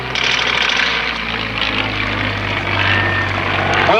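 A propeller fighter plane roars past at an airshow, loud and close, its engine drone swelling and holding steady before a sharp change at the end.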